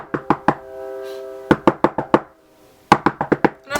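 Sharp knocks on a house's front door come in three quick bursts of three to four raps each, close and loud, with short quiet gaps between the bursts.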